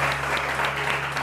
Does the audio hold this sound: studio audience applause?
yes